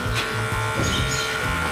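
An electric dog hair clipper buzzes steadily while being used for a dog's grooming during bath time, a continuous close motorized hum with faint background sounds.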